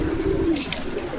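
A fancy domestic desi pigeon from a pair being sold gives one short, low, throaty coo, close and clear against faint background noise.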